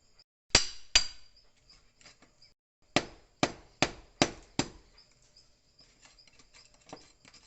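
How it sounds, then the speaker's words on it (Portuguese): An iron bar point chiselling holes into a concrete wall: sharp, isolated striking blows, two close together, then four in a steady rhythm, followed by faint scraping and small taps, close and dry. "E vou fazer uns buracos para poder chumbar o prego ou o ferro para dar sustentabilidade."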